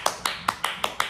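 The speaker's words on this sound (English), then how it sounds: "Clap your hands." Hands clapping at a toddler storytime, six crisp, evenly spaced claps in a quick steady rhythm, close and clear.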